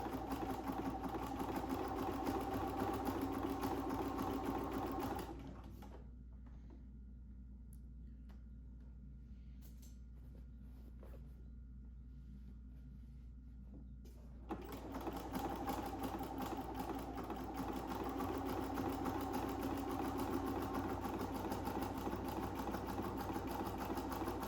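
A sewing machine runs continuously, zigzag stitching binding onto a minky quilt. It pauses quietly for several seconds midway and then resumes with a steady, close mechanical whir.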